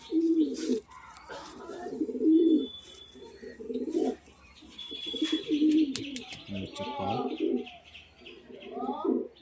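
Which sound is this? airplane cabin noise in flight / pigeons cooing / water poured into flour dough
pigeons cooing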